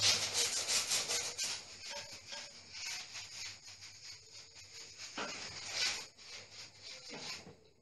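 Brush strokes sweeping dust off freshly sanded, powdery wall plaster near the ceiling, a series of rhythmic rough swishes, loudest at first and then softer and intermittent, close by and without speech.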